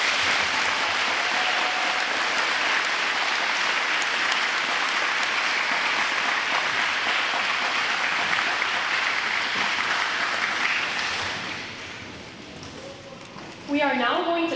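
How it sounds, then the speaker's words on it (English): A high school audience at a Veterans' Day program applauds the veterans, a long, loud, continuous wash of clapping that fades toward the end, followed by a few scattered claps and a brief voice. "Can we please give them all a round of applause?"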